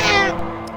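A single cat meow, bright and drawn out, loud and close, fading within a second with no other sounds around it.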